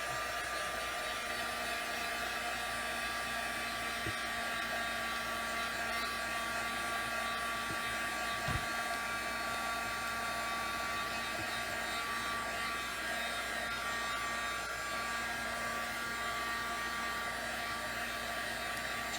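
Hair dryer blowing on matte medium before stenciling, a steady continuous whirring hum of constant level, close and alone for the whole stretch.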